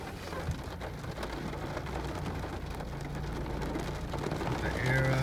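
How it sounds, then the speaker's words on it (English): Steady rain falls around a parked 2011 Camaro RS V6 during an outdoor oil change, a constant soft hiss of drops throughout. "It's starting to rain."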